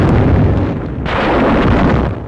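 M51 quadruple .50 caliber machine guns fire during 1945 wartime combat in the Philippines, a loud dense roar of overlapping bursts that swells sharply again after a brief dip.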